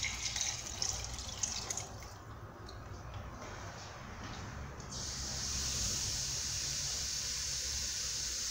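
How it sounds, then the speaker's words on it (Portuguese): Water poured from a tap into a pot for cooking vegetables for a chicken noodle soup, a steady close splashing and running stream with dripping, continuing without talk. "Agora a gente coloca água para cozinhar os legumes."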